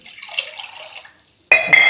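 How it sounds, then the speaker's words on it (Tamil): Water is poured into a pan of bitter gourd gravy, a short liquid splash and trickle that ends abruptly, followed by a brief pause and then a sharper clatter, with no talking. "கொஞ்சம் தண்ணி சேர்த்துக்கிறலாம்."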